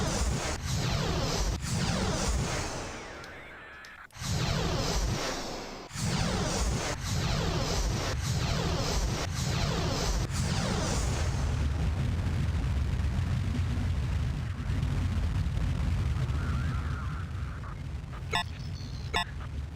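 Missiles launch and explode in the space combat game Independence War, loud roaring bursts and whooshes with heavy booms, repeated blasts across the stretch and a short dropout near the middle.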